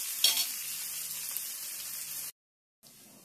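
Onions fry in a pan until reddish, producing a soft continuous sizzle with a few stirring clinks, broken by a brief silent gap before the hiss resumes.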